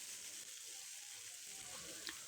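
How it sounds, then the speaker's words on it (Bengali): Leafy greens fry with onion in a pan, giving a soft, fairly quiet, even sizzle with a faint scrape or clink near the end. "শাকগুলোকে এবার একটু সুন্দর করে পেঁয়াজ দিয়ে ভেজে নিব।"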